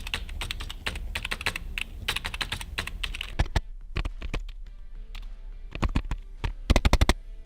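Fast, continuous typing on Cosmic Byte Styx and Ant Esports MK1400 gaming keyboards, dense bursts of loud, close keystrokes with brief pauses between runs, no voices.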